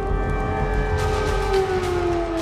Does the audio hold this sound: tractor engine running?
no